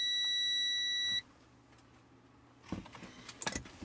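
A multimeter sounds a steady high continuity beep for just over a second while its probes touch radio wiring, then cuts off, followed by light clicks and handling noise.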